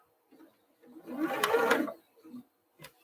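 A home sewing machine stitching fabric for a quilted table mat runs in one short whirring burst of about a second, with a couple of faint clicks before and after, close and fairly quiet.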